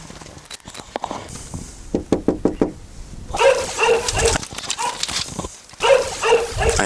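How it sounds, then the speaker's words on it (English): A dog outside a desert trailer gives a run of sharp, loud barks, some rapid and evenly spaced, others in bursts, with faint footsteps and knocking around it. "Nice dog there."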